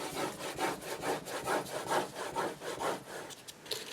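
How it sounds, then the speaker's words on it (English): Firm rubbing strokes from burnishing paper across the back of a chipboard mini album, a steady rhythmic scraping of about ten back-and-forth passes, close and fairly loud with no talk. "I like to flip it over and then burnish really well all over the back"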